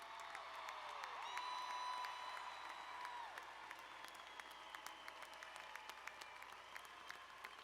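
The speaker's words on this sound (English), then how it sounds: "give our students a big round of applause" A large crowd at a high school graduation ceremony claps continuously, with scattered cheers and whoops, while a whistle-like tone rises and falls early on.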